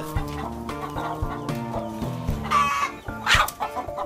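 Chickens cluck steadily in short repeated notes, with a brief louder squawk near the end; close and clear with no talking.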